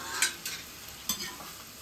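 Sliced okra frying in a pan, heard as soft sizzling with a few sharper stirring scrapes and spatters, fairly faint and with nobody talking.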